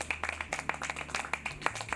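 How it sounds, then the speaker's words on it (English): Handclaps from a small group ring out in a steady patter of distinct, fairly close claps, with a low hum running underneath. "And a big round of applause"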